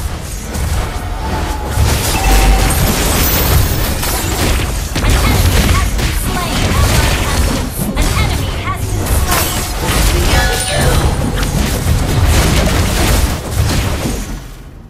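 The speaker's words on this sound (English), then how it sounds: "Your team destroyed a turret." A loud, chaotic game battle in which a turret is destroyed, with repeated explosions, crashes and impact booms layered over each other continuously for about fifteen seconds.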